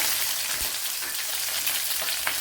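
Green chillies go into hot oil with mustard seeds for a Kerala cauliflower masala. A loud, continuous crackling sizzle fills the whole moment, with a few faint pops and no talking.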